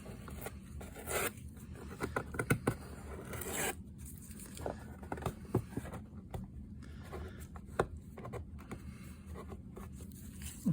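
Scissors cut into an art journal page and a paper layer is peeled away, giving faint, close scratchy snips, rips and rustles in irregular bursts, with no talking.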